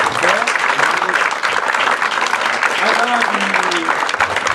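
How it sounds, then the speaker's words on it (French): A theatre audience applauds the technicians who ran sound and lighting for a Feydeau play, a dense, steady clatter of clapping lasting several seconds while a voice keeps talking over it. "mais il faut les applaudir ce soir."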